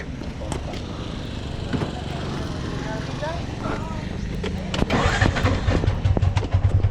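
A Bajaj 175cc motorcycle tuk-tuk engine cranks amid voices, then catches and settles into a loud, rapid low putter near the end.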